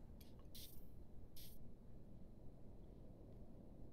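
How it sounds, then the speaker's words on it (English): In The Sims 4, a Sim sprays deodorant in two short, airy hissing bursts about a second apart, quiet against a steady low background rumble. "And then we have the deodorant. I'm gonna have her use that."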